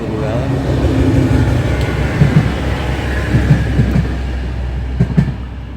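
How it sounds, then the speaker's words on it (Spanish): A train rolls steadily past a campsite close by, a continuous loud rumble with rhythmic clickety-clack of wheels over rail joints. "Sí, pasan trenes acá al lado."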